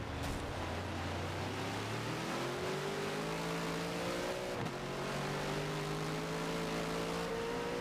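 Race cars in a racing video game head into La Source at Spa-Francorchamps during a 24-hour event, with a continuous engine drone that steps down in pitch through downshifts under braking, steady and fairly loud with no talk.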